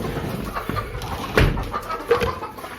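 Hens cluck inside a poultry coop on a small farm, with several short, close clucks and a couple of louder squawking calls over a quiet background.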